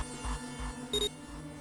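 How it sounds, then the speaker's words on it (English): A scanner device in the video game 999 gives a single short electronic beep over a low pulsing game soundtrack, clear and close, with no voices. "The device beeped again, and a second asterisk appeared."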